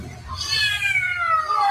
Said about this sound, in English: That cat was rocking out. That's so cute.